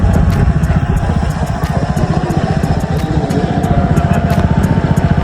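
Motorcycle accelerating away near a fishing spot, a loud steady engine drone with rapid pulsing exhaust beats that holds fairly constant throughout, no talk.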